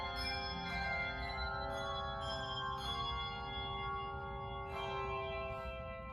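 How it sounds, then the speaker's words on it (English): About thirty players in a handbell choir ring bells at the front of a United Methodist church, clear sustained bell tones layering and decaying with fresh strikes every second or two, steady and resonant with no talk. "They had about 30 people up at the front ringing bells."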